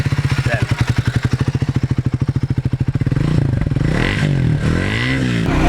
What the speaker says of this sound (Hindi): बाइक को स्टार्ट करते हैं और बाइक का साउंड सुनते हैं